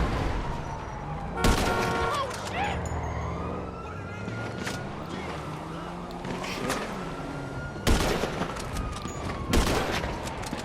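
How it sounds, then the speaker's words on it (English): Gunfire in GTA Online rings out in several sharp, loud shots and bursts amid wailing police sirens and traffic noise, with a player's voice occasionally heard underneath. "I'm trying to shoot him over there"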